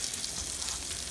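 Rice sizzles and browns in a frying pan, giving a steady, close crackling hiss with no pauses and no voices.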